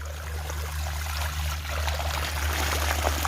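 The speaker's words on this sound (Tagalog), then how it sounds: "Tuloy pa rin po yung pagpapatubig natin gamit po yung ating electric water pump." Water gushes steadily from an electric water pump irrigating a rice paddy, a continuous splashing stream over a low, constant motor hum, close by and alone.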